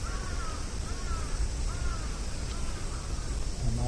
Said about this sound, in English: Lots of cicadas and crow sounds, yeah.